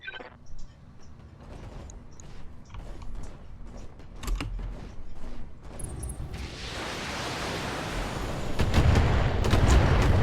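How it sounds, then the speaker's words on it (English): Heavy weapons fire in the BattleTech mech video game, a run of mechanical clanks and booming impacts that builds into a dense, loud roar of explosions over the final seconds. "I'm under heavy fire."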